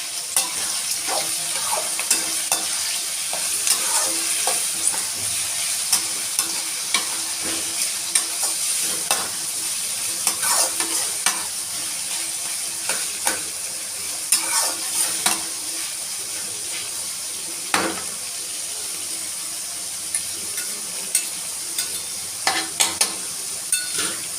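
Ridge gourd sautés in a pan for kootu while a spatula stirs it steadily, with a constant frying hiss and frequent close scrapes and clicks against the metal all the way through.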